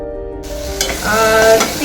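Chole masala spices and tomato puree frying and being stirred in oil, a loud close sizzle with scraping spoon strokes that grows denser after a brief quieter start, no talk.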